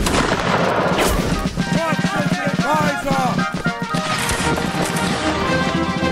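Gunfire from the medieval combat game Mount and Blade, a dense continuous battle mix of shots and crashes with ringing tones layered throughout, loud and steady for the whole stretch.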